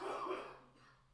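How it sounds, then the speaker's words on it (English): A single quiet, rough cough from a man who is sick, close and brief, fading out with no other sound around it. "was that like a real cough"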